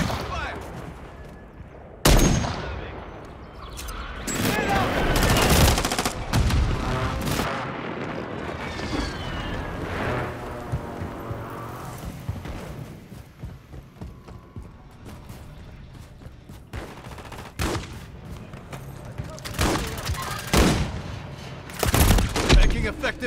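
Loud gunfire rings out in a military video game: sharp single shots and bursts crack repeatedly over a rumbling battle background, with voices calling out between the shots.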